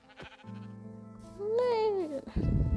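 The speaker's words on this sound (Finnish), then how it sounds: "Missä kaikki ne lampaat on?" A Minecraft sheep gives one clear, wavering bleat at close range over a low steady game hum, followed by a burst of noise.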